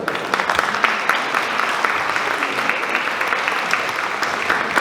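A crowd applauds at a talk on soil health and vegetable crop profitability, welcoming a speaker with dense, sustained clapping throughout.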